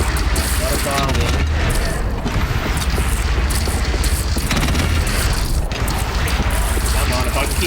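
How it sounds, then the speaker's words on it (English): In the Horizon Zero Dawn video game, a mortar fires at the Deathbringer amid a dense, loud, continuous wash of booms and mechanical clatter, with a voice talking over it. "I just gotta dial in this mortar"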